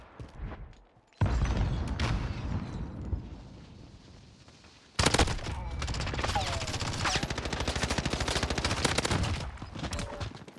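Modern Warfare gunfire in a video game: a short burst at first, then after a pause a long, loud run of rapid automatic shots, with faint voices in the background.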